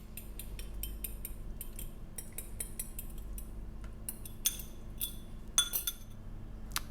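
A spoon clinks repeatedly against a bowl while pesto dressing is mixed, giving irregular bright metallic taps in clusters over quiet room hum, with no talking.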